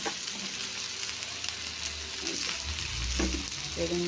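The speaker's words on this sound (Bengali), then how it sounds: "এবার দিয়ে দিচ্ছি বেগুনগুলো" Eggplant pieces sizzle and fry with onion, salt and turmeric in a pan, a busy crackling hiss with occasional stirring scrapes, close and continuous without talk.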